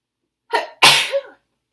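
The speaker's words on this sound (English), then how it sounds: "I'm going to sneeze." A single loud, close sneeze: a short sharp intake of breath followed by an explosive burst, then silence.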